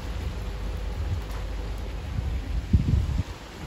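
Heavy rain pours down outdoors in Rochefort, a steady close hiss of water with low rumbling gusts and a brief heavier patter surge near the end, no voices.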